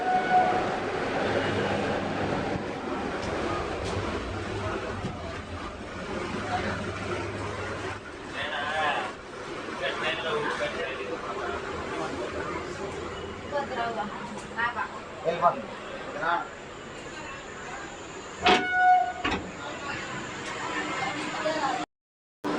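Interior of a stationary eight-coach MEMU commuter train waiting at Gudur station in South India, with a steady murmur of passengers, rattles and clatter, and brief metallic squeals near the end.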